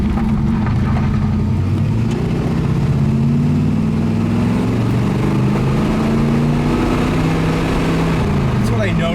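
A 1979 Pontiac Trans Am engine runs steadily with rising and falling revs, its deep rumble loud and close throughout, while people talk over it.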